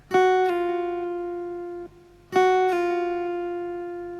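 Two plucked acoustic guitar notes at the same pitch on the third string, each with a bright attack and a quick second pluck, ringing and slowly decaying, separated by a short pause.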